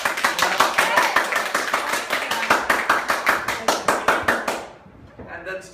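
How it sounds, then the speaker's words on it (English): A small audience at the Austin Monologue Jam claps hands in unison, a steady run of about twenty crisp rhythmic claps that stops abruptly, followed by a brief quiet stir. "please clap your hands"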